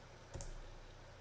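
A single quiet computer mouse click, a short sharp tick standing out against a faint steady room hum.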